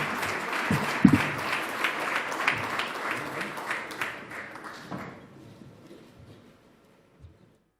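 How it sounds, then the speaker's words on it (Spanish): An audience at an opening session in Madrid claps warmly for three guests, a dense round of applause with a few sharper claps that tapers off and fades to near silence after about five seconds. "Un aplauso para los tres"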